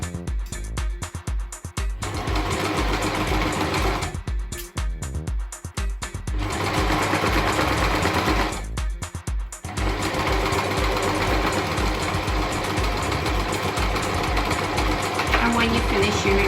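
A sewing machine stitches a seam on a face mask in several bursts of rapid, steady needle clatter. Short pauses between bursts mark the back tack reversing at the start of the seam.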